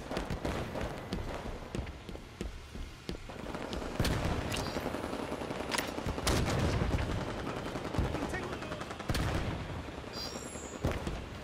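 Continuous gunfire during a Halo 5 firefight, with sustained rattling bursts and heavy booming shots layered over one another, loud and dense throughout with only brief lulls.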